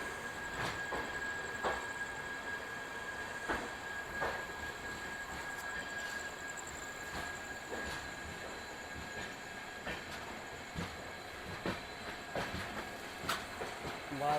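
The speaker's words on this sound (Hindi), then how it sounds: "11:25 में हमारी ट्रेन खुल चुकी है राउरकेला जंक्शन से।" Dhanbad-Bhubaneswar Express pulling away from Rourkela Junction, a steady rumble of rolling wagons with repeated clickety-clack wheel beats over rail joints and a faint high squeal, heard from on board throughout.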